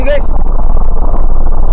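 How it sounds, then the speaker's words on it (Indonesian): A car engine in Car For Sale Simulator 2023 gives a steady, deep low rumble that fills the whole stretch, with a brief voice at the start. "Suara apa sih? Suara mobil ini."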